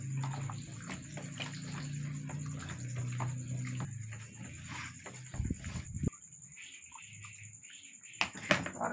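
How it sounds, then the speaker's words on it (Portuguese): A liter of water is poured into a container while making homemade liquid soap with caustic soda, giving uneven splashing and trickling bursts over a few seconds, close and fairly quiet, with a steady high whine in the background. "Eu vou colocar o outro litro de água aqui, gente"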